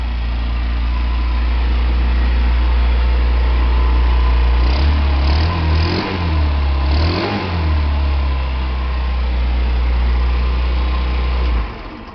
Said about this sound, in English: That's the way a scooter's supposed to start,